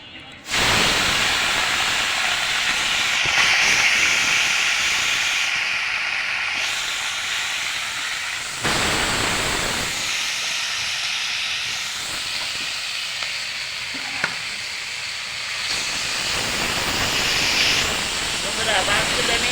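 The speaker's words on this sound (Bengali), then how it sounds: "এখন আমি চুলায় কড়াই বসাইছি কড়াইতে তেল দিয়েছি এখন আমি মাছগুলি ভেজে নিব" Chanda fish fry in hot oil in a wok over a wood-fired stove, giving a steady, loud hissing sizzle that runs almost the whole time, with a voice talking over it.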